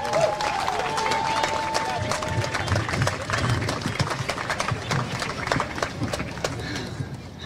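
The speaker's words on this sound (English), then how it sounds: "please give a big round of applause for Cassandra Tucker" An outdoor crowd at a Milwaukee protest on the last night of the Democratic National Convention claps and cheers for a speaker in a continuous round of applause, with sharp individual claps over a broad crowd roar.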